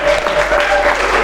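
Brief burst of applause from an audience at an academic teaching presentation, dense and loud clapping filling the short moment.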